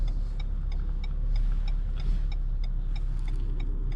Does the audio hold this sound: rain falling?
no